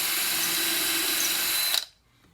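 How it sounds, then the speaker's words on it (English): A power drill bores through wood into a backer block while a bathroom vanity drawer is being built, a loud steady high whine that cuts off abruptly near the end, leaving near silence. "I'll finish drilling all the way through"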